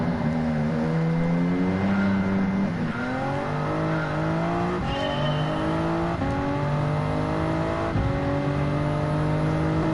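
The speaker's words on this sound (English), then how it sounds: "Oh dear, I was revving up too much." A race car in Gran Turismo 7 at Spa, engine repeatedly climbing through the revs and shifting gears, loud and continuous with rising pitch sweeps, no talk.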